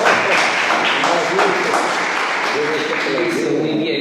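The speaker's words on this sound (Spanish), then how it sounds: "Listo, les regalamos un aplauso." A crowd at a literary awards ceremony claps steadily for a few seconds, dense and fairly close, with voices murmuring beneath the applause.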